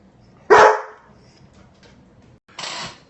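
A puppy barks twice at close range, a sharp loud bark followed after a quiet gap by a second, shorter one, with no talking.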